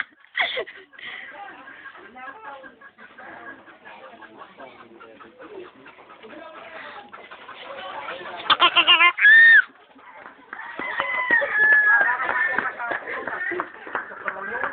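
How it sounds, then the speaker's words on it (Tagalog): Many chickens cluck and chatter around a farmyard with a brief loud call near the middle, while people talk in the background over the flock. "Daming manok."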